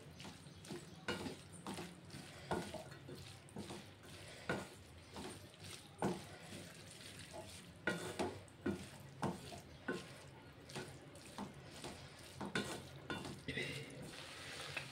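Pasta being stirred through a white sauce in a pan, giving repeated scraping and clacking strokes at an uneven rhythm over a soft, steady sizzle, close up with no talking.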